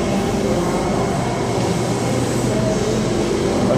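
A Sydney train rumbles through Hurstville Station with a steady, loud, broadband roar and faint tonal whine, continuous throughout with no voices.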